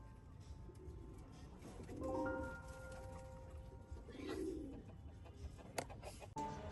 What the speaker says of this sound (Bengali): আমার এই কবুতরটি একদমই নতুন, সবেমাত্র অ্যাডাল্ট হয়েছে, যার কারণে এটা একটু বেশি অ্যাক্টিভ, ডাকাডাকি করতেছে